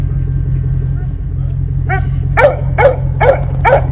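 Dog barking four times in a steady series near the end, a moderately close bark over a constant low rumble of an idling ATV engine, with no talk.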